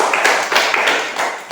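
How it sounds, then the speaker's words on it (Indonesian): A classroom of children claps together in a short, rhythmic burst of several sharp, close, loud beats at a primary school lesson. "kita tepuk tangan dulu"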